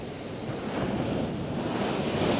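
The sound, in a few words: rough sea waves on a Merseyside beach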